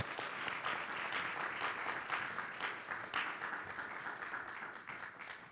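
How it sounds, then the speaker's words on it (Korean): A church congregation claps in welcome as the pastor comes out for a special revival service, a broad, even wash of many hands rising and falling gently over several seconds, fairly distant and soft. "우리 목사님 나오실 때 여러분 박수로 우리 환영해 주시기를 바랍니다"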